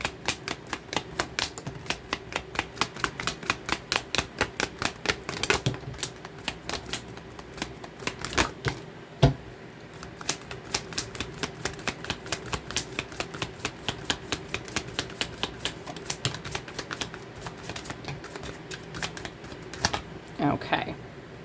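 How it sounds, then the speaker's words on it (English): A deck of tarot cards being shuffled by hand, producing rapid, repeated crisp riffling clicks in bursts with short pauses, close and fairly loud throughout. "In the bottom of the deck, after shuffling"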